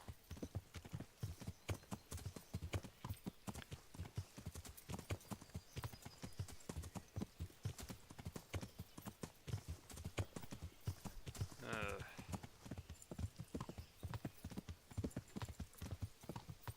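Rhythmic clip-clop of horse hooves at a steady trot, continuous throughout, with a brief horse whinny partway through, in the video game Kingdom Come: Deliverance.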